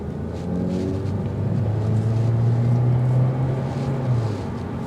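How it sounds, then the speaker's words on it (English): A 2024 Hyundai Elantra Limited Hybrid engine drones under acceleration inside the cabin, a steady low hum whose pitch climbs and holds, with broad road and wind rumble throughout. "You'll hear the engine filter in, but it is to be expected."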